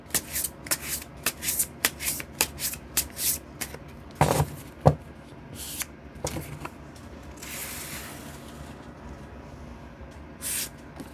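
Tarot cards shuffled by hand up close, a quick run of crisp riffles and snaps followed by softer sliding and a few later flicks, with no voices.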